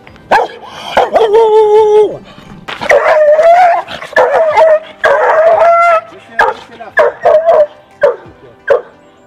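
A female Rottweiler barks, yips and whines in uneven bursts, loud and close, with some long drawn-out whimpering cries between the barks.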